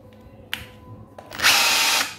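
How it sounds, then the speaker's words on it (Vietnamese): Makita cordless drill running in plain drilling mode without hammer action: two short whirring starts, then a louder sustained high-pitched spin that cuts off, close up. "Chế độ này là khoan không có búa."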